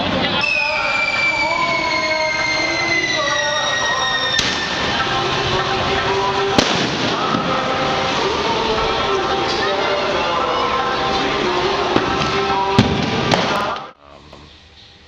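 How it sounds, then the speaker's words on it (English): Diwali street fireworks in India crackle and bang amid loud street noise, with whistling, sliding rocket tones, occasional sharp pops and a dense crowd roar that cuts off near the end. "Tonight is Diwali, so all around is all kinds of stuff and people. So it's pretty crazy. Lots of fireworks."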